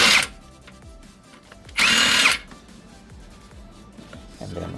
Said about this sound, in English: it's gonna be easy for the impact wrench